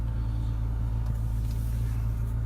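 McLaren 570GT supercar, a 2018 model with 562 horsepower, pulling away with a steady low engine drone and road rumble heard from inside the cabin, no talk over it.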